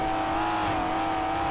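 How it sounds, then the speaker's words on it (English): A Ferrari sports car in GTA 5 accelerates with a steady, sustained engine whine, loud and continuous throughout, with no talking over it. "That Ferrari about to go."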